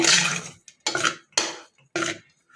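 Four separate bursts of scraping and clinking as a utensil stirs a black rice mixture in a pot, with short silences between strokes, no voices.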